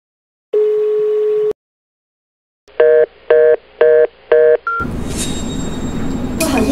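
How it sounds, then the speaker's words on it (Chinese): A telephone number is dialed on a keypad: a steady dial tone plays first, then four distinct keypad tones sound in an even rhythm, before a loud, noisy sound takes over. "随便拨打一个号码"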